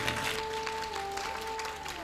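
Hall audience at a Hindi religious question-and-answer gathering clapping: continuous dense applause, with a steady tonal hum running underneath.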